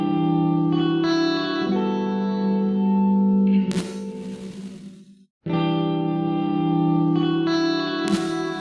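A reverb effect plugin ducking its tail on a musical passage: sustained tonal chords swell with a washy reverberant tail that dips into near-silence in a gap, then the sound and reverb rise back up again.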